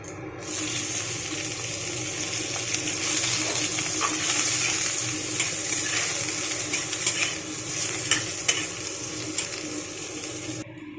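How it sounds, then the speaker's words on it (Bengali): Eggplant fries in hot oil in a pan, a continuous bright sizzle with occasional stirring clicks, close and steady for the full length with no talk. "তো চলুন সবার আগে বেগুনটাকে ভেজে নেবো একটু।"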